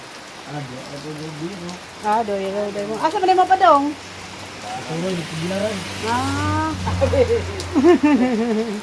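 Steady rain patters in the background while several people talk and laugh close by.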